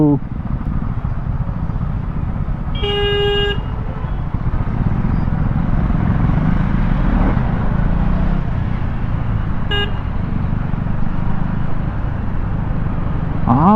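A 2024 KTM Duke 250 motorcycle engine hums steadily and smoothly while riding through traffic, with a couple of brief horn toots along the way.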